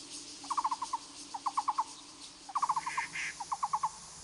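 Molar barbets call in a forest recreation area: short bursts of four or five bright, evenly spaced notes repeat in rhythmic series, moderately close, over a faint background hiss.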